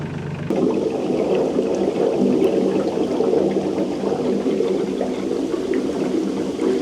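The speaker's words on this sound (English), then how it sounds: "I'm just fueling up the tractor." Fuel pours steadily into a tractor's tank, a continuous rushing gurgle that starts abruptly and runs unbroken at a moderate level, with no talking.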